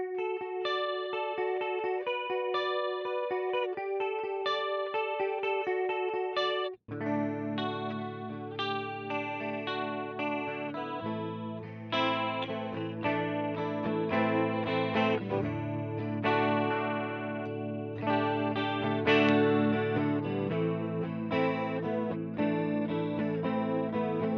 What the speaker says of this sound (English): That's a really nice chorus sound